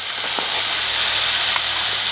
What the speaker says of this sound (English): you can probably hear that frying away